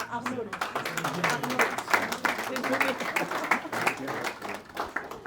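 A crowd claps steadily at a graduation ceremony, a dense, even burst of applause that continues throughout at moderate loudness.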